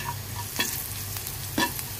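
Onions being stirred with turmeric in a hot pan, a couple of soft scraping strokes over a low, steady sizzle of frying, close and fairly quiet.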